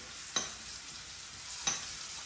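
Vegetable fry sizzling in a pan, a soft steady hiss with two sharp scraping stirs of a spatula, no voices.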